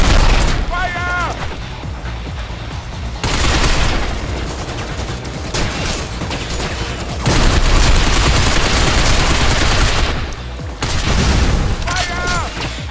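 Bursts of gunfire sound in the video game Binary Domain, with rapid automatic fire and booming blasts in long loud runs, briefly paused, and a voice shouting over the action.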